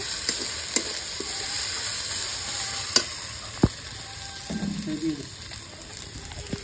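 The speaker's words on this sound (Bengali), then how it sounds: "জল দিয়ে দেবো, জল দিয়ে হালকা করে গুলে নেবো" Water poured and stirred into a frying chili powder mixture for a cauliflower and rohu fish curry, a quiet steady sizzle with sharp spoon knocks against the pan and a brief bubbling splash.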